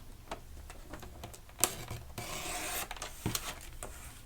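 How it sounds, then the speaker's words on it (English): A paper trimmer slices a glassine bag to size, giving a sharp close click and then a brief scraping swish of the blade through the thin paper, with small taps around it. "I'm going to bring in my glassine bag, and I'm going to trim it"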